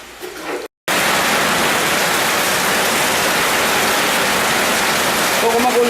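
Loud, dense rain in Iloilo during flooding roars steadily after a brief cut, a broad hiss of heavy downpour that stays constant throughout.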